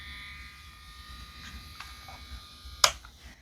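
A Melody Susie nail e-file runs at its 20 setting with a steady, fairly quiet high electric whine and buzz, close up, ending with a sharp click near the end.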